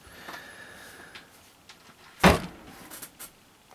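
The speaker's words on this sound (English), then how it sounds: "baby was scratching on the door." A pet scratches at a door from the inside, giving one sharp, close scrape followed by a few fainter taps in a quiet room.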